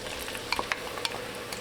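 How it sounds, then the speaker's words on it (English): Onion frying in hot oil in a pan over medium heat, a steady close sizzle with occasional sharp pops and light stirring scrapes. "You should hear that sizzle."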